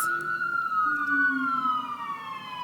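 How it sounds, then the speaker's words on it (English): A siren wails steadily, its pitch slowly sliding downward with bright harmonics, loud and continuous throughout. "Here I am competing with the sirens again"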